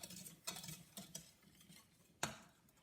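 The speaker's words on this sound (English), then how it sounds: "I am going to just whisk those ingredients together." Whisk stirring dry ingredients for chocolate meringue pie in a bowl, soft scraping with a few sharp metallic taps against the rim, faint and close.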